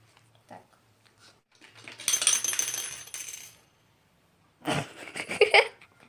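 Coins clatter into a cup in two short metallic bursts separated by a pause, close up and fairly quiet.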